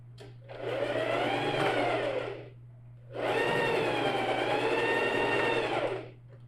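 A sewing machine stitches a backpack seam in two sustained runs of about two seconds each, separated by a short pause for a backstitch, steady mechanical whirring over a constant low hum with no speech.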